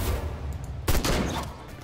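A burst of gunfire in the video game Sang-Froid: Tales of Werewolves crackles over a rumbling background, with a sharper volley of shots cutting in midway.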